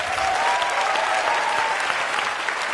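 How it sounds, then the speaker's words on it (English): An audience at a TED talk breaks into dense, sustained applause, loud and even from start to finish. "Big applause."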